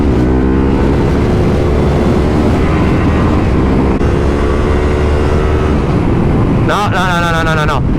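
A Yamaha Tenere 700 motorcycle accelerates hard in third gear on a road ride near Naples. The engine drone is loud and steady under heavy wind noise, and it rises into a sharp revving pitch sweep near the end.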